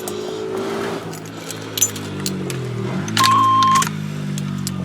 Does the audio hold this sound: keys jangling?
yes